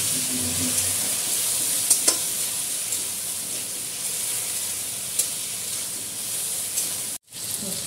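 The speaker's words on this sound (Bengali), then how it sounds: "এখন অল্প একটু পরিমাণে জল দিয়ে ভালো করে কষিয়ে নেব" A curry of potato and pointed gourd sizzles in a pan with a little water as it is sautéed. A steady, close hiss of frying runs throughout, with a few faint utensil clicks and a brief break near the end.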